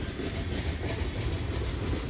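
Long mixed manifest freight train with mid-train DPUs and a caboose rolls past, giving a steady, dense rumble of railcars with faint wheel clatter, continuous and fairly loud with no talk.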